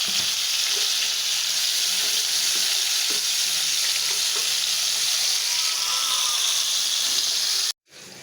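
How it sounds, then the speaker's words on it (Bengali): Pieces of pangasius fish tipped into hot oil in a pot, sizzling loudly and steadily with a broad hissing fry, then cutting off abruptly near the end. "এই যে আমি এখন মাছগুলো ঢেলে দিই"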